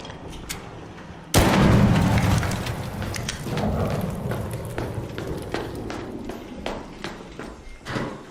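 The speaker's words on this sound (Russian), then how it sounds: "Громко взрывается, да?" A sudden loud blast erupts in the shooter game Arc Raiders, followed by a long rumbling tail with scattered sharp clanks and debris-like hits fading over several seconds.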